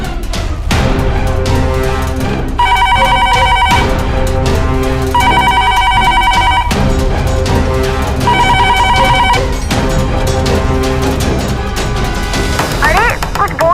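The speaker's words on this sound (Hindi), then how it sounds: "कौन फोन कर रहा है बार बार?" A telephone rings in repeated bursts, each a tinny trilling tone, over loud music and background noise throughout.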